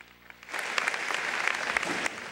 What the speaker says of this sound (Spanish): Dale ese fuerte aplauso al Señor Jesús